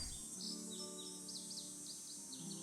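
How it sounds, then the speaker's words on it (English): Tanager song in the Nancy Drew game Ghost Dogs of Moon Lake: a series of short, high, bright chirped phrases repeat steadily over a soft, constant outdoor ambience, faint and distant-sounding with no voices. "All right, I hear a tanager."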